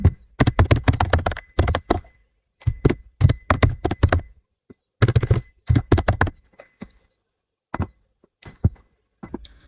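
Bursts of typing on a computer keyboard, rapid close clacking keystrokes in clusters separated by short pauses, fairly loud and without talk.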